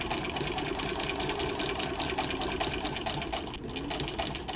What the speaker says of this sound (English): So I make my stitch longer again and just sew along, guiding it along so I keep the seam allowance I want.